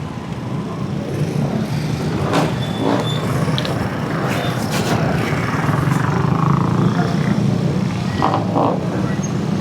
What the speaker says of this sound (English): Always traffic here, always.